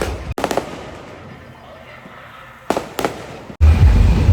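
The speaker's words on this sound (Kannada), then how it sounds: "ಪಟಾಕಿ ಎಲ್ಲ ಹೊಡಿತಾವ್ರೆ" Firecrackers burst outdoors during a Ganesha immersion procession, with a couple of sharp bangs early, another pair of loud cracks later, then a dense, loud rumble of noise at the close.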